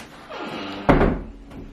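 Closet door in a bedroom swinging shut, a short slide or creak followed by a single firm knock as it closes, close by and alone.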